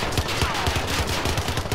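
Rapid automatic gunfire from the player's weapon in Call of Duty Modern Warfare, a loud, fast, evenly spaced burst of shots close up, with no talking.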